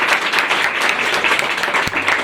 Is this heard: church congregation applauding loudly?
yes